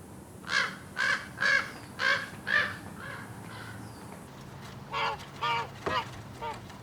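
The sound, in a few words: raven calling and making sounds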